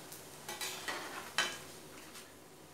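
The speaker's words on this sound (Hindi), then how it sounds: "और चीज़ बॉल को हल्का गोल्डन ब्राउन होने तक तल लेंगे" Cheese balls frying in hot oil in a pan, with faint sizzling and a few soft scraping stirs of a utensil against the pan, quiet and close with no talking.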